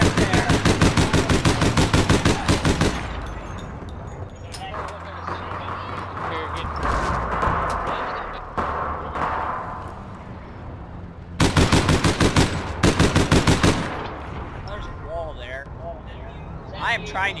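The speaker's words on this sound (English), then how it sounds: "I am trying to shoot through a wall here." Rapid automatic gunfire in the online game APB Reloaded comes in two loud, dense bursts at the start and near the end, with scattered shots and game noise between, while players talk over it.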